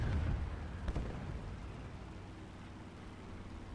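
Anti-aircraft fire in a WWII flight game: a heavy, low rumbling burst opens loudly, followed by a sharp thud near one second, then a continuous deep engine-like roar that settles to a steady drone.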